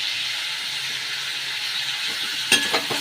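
Capsicum frying in a pan for chilli mushroom, a steady broadband sizzle held throughout, with a few louder clatters of stirring near the end.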